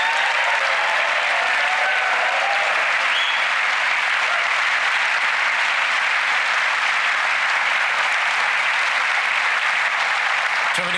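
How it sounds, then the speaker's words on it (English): Sustained audience applause fills a TV magic show stage, a dense, steady wash of clapping from a large studio crowd holding at even loudness for the full stretch without any talk over it. "Please give Stacey a huge round of applause as she joins you on stage."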